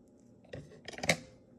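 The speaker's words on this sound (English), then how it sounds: "All you do is take some scissors, cut a little hole" Scissors snip a small hole in the tip of a piping bag filled with deviled egg filling, giving two or three quick, faint crisp cuts in a quiet room.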